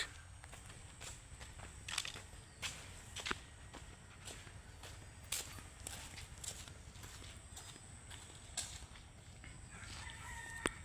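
Chickens on a farm property in Gazipur, Bangladesh, give scattered clucks and what sounds like a rooster's crow at a moderate distance, mixed with walking footsteps and light background noise.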